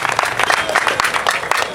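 A crowd at a UDPS political rally applauds and cheers loudly in a dense, continuous burst of clapping with shouting voices mixed in.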